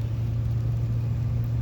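The LS-swapped engine of a Squarebody rollback truck drones low and steady while the truck climbs a steep mountain road near a ski resort. The hum is even and close, with no talking.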